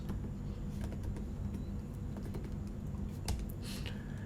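Steady keystrokes tap on a computer keyboard as JavaScript code is typed, quiet and close over a low background hum.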